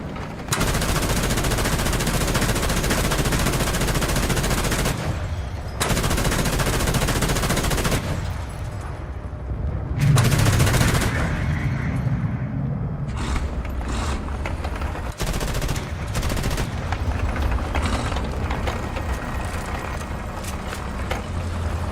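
Long bursts of rapid automatic gunfire rattle loud and close in the military shooter Sons of Attila, broken by brief pauses and mechanical clanks, with no talking.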